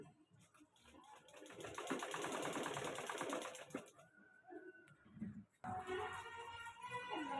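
A sewing machine stitches a blouse lining in a rapid, close, continuous run for several seconds, then stops, followed by softer handling noises and another brief burst of mechanical sound.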